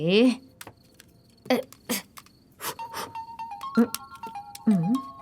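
A melodic ringtone plays in steady electronic tones, overlapping with voices and short clicks and knocks nearby.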